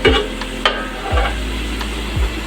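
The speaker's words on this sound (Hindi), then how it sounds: "आप देख सकते हैं फ्राई हो गया अच्छे से।" Chicken yakhni pulao ingredients fry in a pot, with a steady low sizzle and three distinct stirring scrapes spaced about a second apart, fairly close and with no talking.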